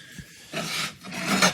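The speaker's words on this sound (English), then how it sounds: "I just wanted to see if I could do some buffing on that scratch." A scratch on a porcelain surface is buffed with a rasping rub, two sustained back-and-forth strokes heard close and alone.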